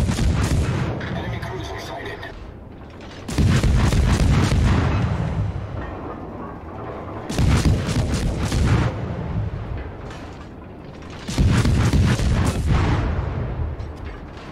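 Guns of the US destroyer Farragut firing in World of Warships, heavy booming volleys in repeated bursts at long range, loud and broad, with quieter rumbling gaps between salvos.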